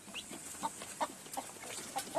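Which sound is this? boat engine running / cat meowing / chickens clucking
chickens clucking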